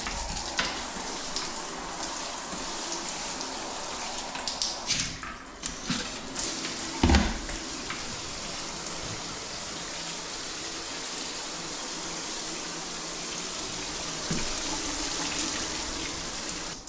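A newly remodeled tiled shower with a handheld head runs steadily, water hissing and spraying nearby with a few clunks and splashes partway through, and no talk.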